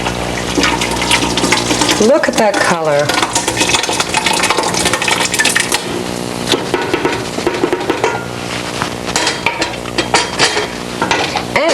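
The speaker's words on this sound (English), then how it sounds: "What I'm going to do is take my tomato sauce and pour it in a bigger pot." Tomato sauce is poured into a bigger pot on the stove and stirred, with wet sloshing, scraping and sizzling filling the kitchen while a person talks over it.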